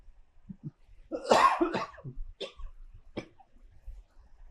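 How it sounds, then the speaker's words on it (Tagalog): One person coughs several times in a rough burst, then gives a few softer coughs and throat sounds in an otherwise quiet room. "Umubo ako."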